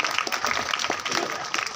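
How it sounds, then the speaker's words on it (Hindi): Children at a school event clap together in a dense, continuous burst of applause lasting under two seconds. "बच्चों से गुजारिश है कि तालियां बजाकर इस प्रोग्राम की शोभा"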